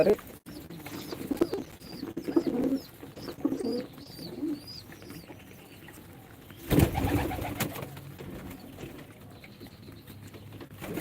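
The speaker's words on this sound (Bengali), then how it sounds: "এগুলা আমার অনেক ভালোবাসার কবুতর" Soft, repeated cooing of Giribaz and racer pigeons in a low murmur, with a louder rustling burst partway through and faint chirps above.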